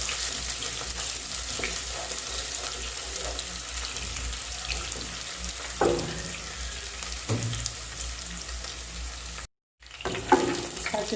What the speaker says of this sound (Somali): saliid yaraa kusoo shubay. haddana basashii ayaan ku shubanayaa